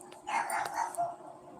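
A caged dog nearby gives a quick run of muffled barks and yelps lasting about a second, moderately loud against a quiet room, with no speech over it.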